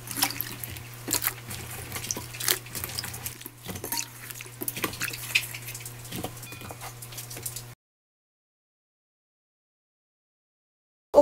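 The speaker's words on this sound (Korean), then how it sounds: "이렇게 해서 한 1분만 담가 놨다가 헹구겠습니다." Strawberries rinsed in water for strawberry syrup: a steady splashing, patter and running-water wash close by for about eight seconds, then silence.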